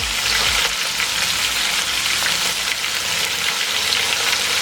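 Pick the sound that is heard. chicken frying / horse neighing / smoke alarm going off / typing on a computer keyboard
chicken frying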